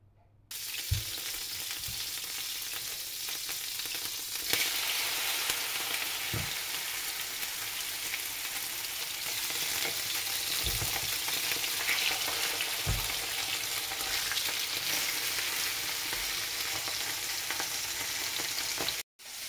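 Seasoned meat, flavoured with salt and white pepper and marinated for about fifteen minutes, frying in hot oil with a steady, dense sizzle for the whole stretch, broken by a few low thumps and stirring knocks, close and with no talk.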